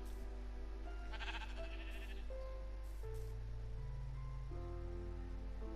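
Sheep in the Minecraft video game bleat several times in a row, clear and fairly close, with wavering calls over a steady low game-music or ambient hum and no talk.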